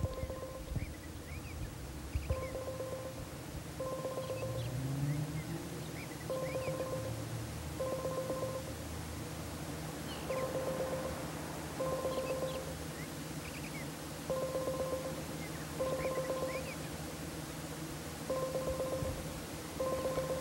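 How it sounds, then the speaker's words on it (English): A telephone ringing unanswered, its repeating double-burst electronic tones cycling steadily over a low background hum, moderately loud and alone with no talk. "John Webster, are you going to answer the phone"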